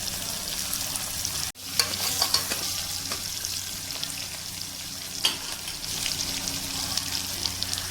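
Onions sizzle and fry in a pan for beef masala gravy, a steady close crackle broken by a few stirring scrapes and clinks, with no talk.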